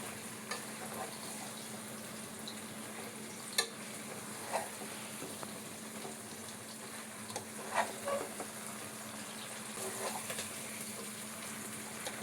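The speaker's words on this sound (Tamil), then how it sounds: "இந்த முருங்கைக்காய் சேர்த்த பிறகு இந்த மசாலா கூட இந்த முருங்கைக்காய் ஒரு 5 நிமிஷம் நல்லா வதக்கணும்." Drumstick pieces sautéing in chicken masala in a pan, giving a steady moderate sizzle with occasional stirring scrapes and soft clinks, and no talk.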